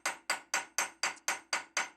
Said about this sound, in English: in this case I'm using a very small cross-peen hammer.